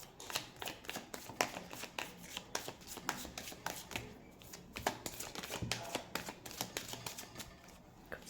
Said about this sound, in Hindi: सारे कार्ड साथ में निकाल लेती हूँ, फिर सब